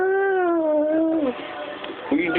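A cat lets out a long, drawn-out meow that falls slightly in pitch, followed by a short second meow. A person speaks between the two calls indoors.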